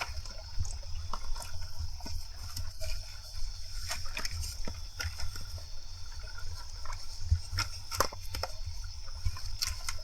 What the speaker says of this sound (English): After rinsing my hands in the stream